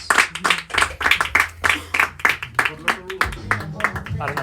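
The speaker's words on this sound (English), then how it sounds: "Clap it up again, y'all, everybody." Audience applause after a stand-up comedy set, a dense run of close handclaps with loose uneven rhythm that carries on for several seconds, with a voice talking over it near the end.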